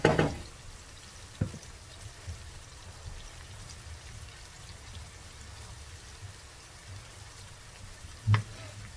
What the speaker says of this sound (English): The sounds of onions cooking are so relaxing.